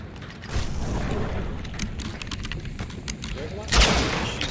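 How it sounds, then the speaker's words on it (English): Gunfire and weapon handling in the Hunt: Showdown video game, with clicking mechanisms and a heavier shot near the end, heard close amid muffled background talk. "Is that you shooting?"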